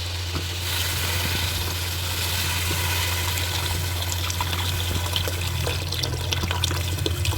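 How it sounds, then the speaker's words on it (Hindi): Water poured into a cooking pot over lightly browned meat for Kabuli pulao, a steady splashing, trickling pour heard close up and alone, running continuously throughout. "अब इसमें हम पानी डालते हैं, उतना पानी डालते हैं जितना गोश्त गल जाए।"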